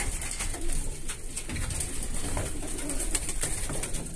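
Iranian breed pigeons coo steadily in a loft, with soft overlapping calls and rustling filling the space at close range, no talk.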